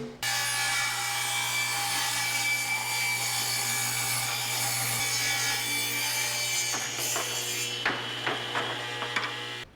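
Wood is sawn into 1.5-inch wide strips for an onion drying rack, a continuous close rasping cut that ends in a few knocks and scrapes as the piece comes free.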